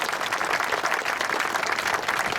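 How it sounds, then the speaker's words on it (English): A crowd at an outdoor Veterans Day memorial ceremony applauds family and friends of service members, an even, continuous patter of many hands clapping throughout. "can we give a nice round of applause to all the family and the friends that support our people that put on those uniforms?"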